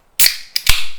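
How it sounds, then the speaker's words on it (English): A carbonated drink can cracks open right up close, with a sharp click, a quick metallic snap, then a brief hissing burst of escaping gas, all within a second and with nothing else around it. "I'm going to open up me a carbonated beverage"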